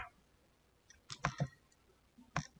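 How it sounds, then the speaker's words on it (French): A computer Enter key pressed during spreadsheet work, a few sharp, close clicks in quick succession, then one more after a short pause, in a quiet room. "Je clique sur Entrée"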